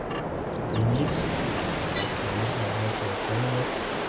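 Rain falls in the farming video game Farming Simulator 22, a steady hiss of rainfall with a few faint, low tones and brief clicks beneath it.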